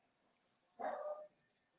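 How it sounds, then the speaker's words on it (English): A dog gives a single short, loud bark burst, close by, with faint background noise and no talking. "My dog is barking, as you guys can probably hear."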